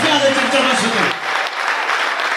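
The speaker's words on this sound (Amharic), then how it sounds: "አጨብጭቡ ለጌታ ከፍ ያለ ጭብጨባ ስጡ" A church congregation clapping in praise, loud dense applause that starts under an overlapping voice and then continues on its own, gradually thinning toward the end.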